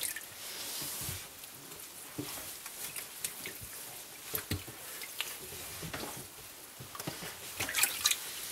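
Yamaha Banshee air filter being dipped and rinsed in a tub of water, with steady wet dripping, squishing and splashing, irregular small splashes throughout and brief louder bursts near the end, with no talking.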